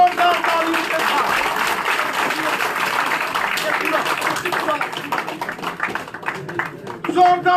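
Loud, sustained applause and clapping from a gathering at a party office welcoming a politician joining the BJP, dense and steady throughout with some voices mixed in.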